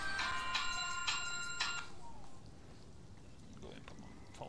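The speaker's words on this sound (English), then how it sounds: "And now people are texting me." A phone rings out a text message tone of several bright chiming pulses over the first couple of seconds, heard against the steady background noise of a zombie-killing video game.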